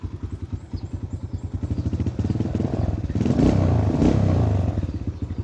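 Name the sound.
Kawasaki KLX 150 motorcycle engine misfiring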